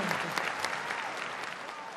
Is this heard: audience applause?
yes